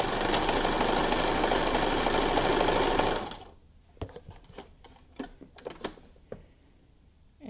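Sewing machine runs fast and steady, stitching T-shirt straps onto a fabric mask with a quarter-inch seam, a loud continuous whir for about three seconds that stops abruptly, followed by faint scattered handling clicks.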